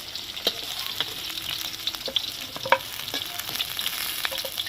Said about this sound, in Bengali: কলাগুলো দেখো খুব সুন্দর করে ভেজে নিচ্ছি এবার তুলে নেব